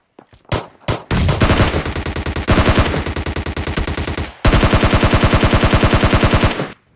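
Gunfire in PUBG Mobile Lite: a few single shots, then long rapid automatic bursts, loud and close, with a brief pause before a final sustained volley.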